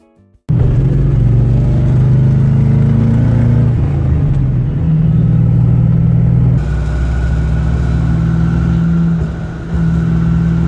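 A 1974 Iso Rivolta Lele's engine while driving, loud and close with a deep, steady rumble, rising and falling revs and shifts in pitch between gears, starting abruptly after a brief quiet moment.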